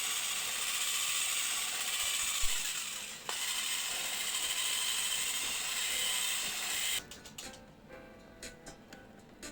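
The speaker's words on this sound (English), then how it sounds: "Now we are going to whisk them to combine very, very thoroughly." Three eggs whisked thoroughly for blueberry cake batter make a steady, fast, close scraping rattle, then a few lighter taps as the whisking stops.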